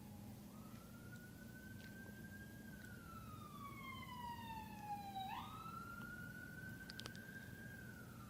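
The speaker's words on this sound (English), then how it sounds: "the first responders that are active right now through the siren that we just heard" An emergency vehicle siren wails past at a distance, its tone rising and falling in long sweeps over a steady low hum of background noise, with no voices.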